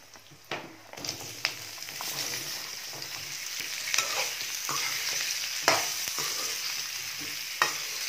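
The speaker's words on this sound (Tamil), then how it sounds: "ஸ்டவ் கம்மியாக வச்சுட்டு எண்ணெயிலேயே கத்திரிக்காய் வதங்கணும்." Brinjal frying in oil with lentils and garlic over a low flame, a steady close sizzle punctuated by repeated clinks and scrapes of a spoon stirring the pan, with no voices.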